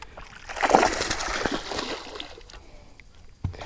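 Fish jump and splash at the water's surface during a fishing trip, a burst of close splashing and sloshing that fades into softer trickles, with one more brief splash near the end.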